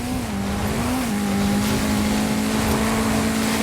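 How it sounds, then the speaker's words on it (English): VW Beetle engine in a car-combat video game, a steady droning hum that holds one pitch with a slight dip early on, continuous and prominent over a dense background roar. "comes a level 9 VW Beetle heading the wrong direction"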